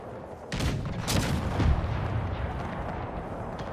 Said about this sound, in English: Maybe firing towards this area is better for Kirkman's gunners